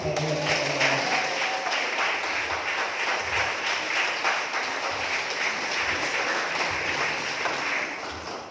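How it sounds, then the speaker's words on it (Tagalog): Audience applause at an intercessory seminar, a steady dense wash of clapping lasting several seconds, loud and sustained before tapering slightly at the end, with some voices mixed in. "Ganun lang ba po kalakas yung palakpak?"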